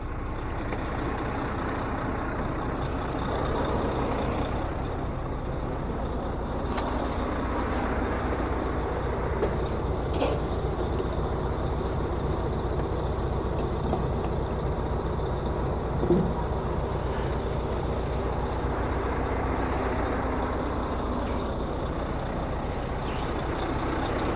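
A truck's air brake system building pressure while the engine idles, a steady low rumble with an even mechanical drone and a few faint clicks throughout, with no talking.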